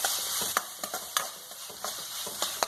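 Ripe pineapple being stirred in a pan for a Kerala-style pineapple stir fry, a steady frying hiss punctuated by repeated spatula scrapes and knocks against the pan.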